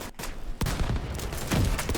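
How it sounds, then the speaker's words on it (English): Grenade launcher fire in the shooter video game The Division 2: two sharp, loud blasts about a second apart, each trailing into a rumbling wash of battle noise. "Grenade launch."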